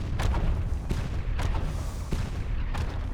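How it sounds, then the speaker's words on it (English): Ship's cannon firing in the game Sunless Skies, heard as several sharp, booming shots spaced about half a second apart over a low, continuous engine rumble, with no talking. "So we can shoot our cannon now."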